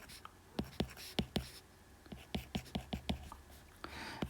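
Pen on paper writing out a maths equation, a string of quick sharp taps and short strokes in uneven bursts, close and fairly quiet, with faint breathy whispering in the background.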